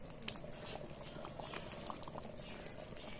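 Black beans boil hard in a pot, a dense, steady bubbling and popping that stays close and even throughout with no talk over it.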